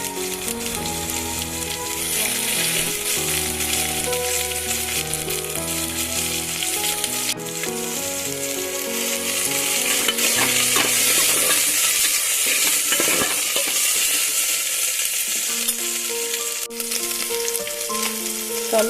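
Mustard seeds, cumin, ginger and garlic fry in ghee in an open pan, giving a steady, loud sizzle with a constant crackling hiss that runs unbroken from start to finish, with no voices.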